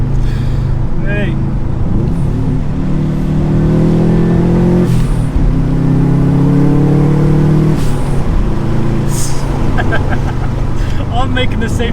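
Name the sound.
Subaru Impreza engine revving with dump valve noise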